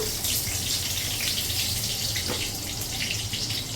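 A bay leaf hisses in hot oil as tempering for a chital fish muitha, a steady close sizzle like rushing water that carries evenly throughout with no talking.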